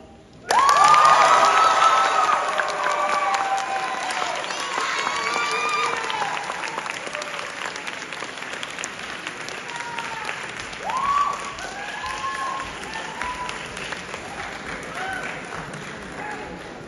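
A graduation ceremony audience breaks into sustained applause with scattered cheers and shouts for the first speaker, loudest at the start and then settling into steady clapping that carries on for over fifteen seconds.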